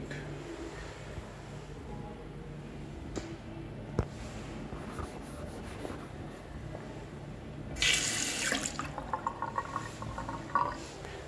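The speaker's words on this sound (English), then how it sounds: "I have just discovered the worst automatic sink." A badly performing automatic sink gives a short burst of running water about a second long, faint against a quiet room hum, with a few drips and clinks after it.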